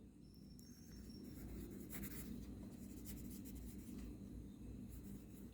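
Pen writing on a board during a primary-school grammar lesson, a steady soft scratching and rubbing that runs nearly continuously against a low room hum, with no talking.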